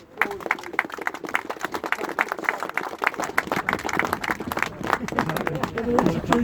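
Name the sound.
crowd applause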